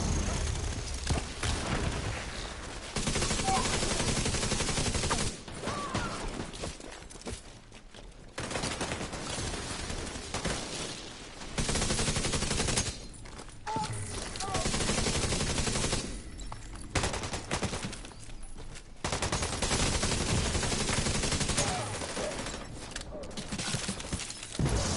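Gunfire in the game The Division 2, heard as long sustained bursts of rapid automatic fire broken by short pauses, loud and continuous across the whole stretch.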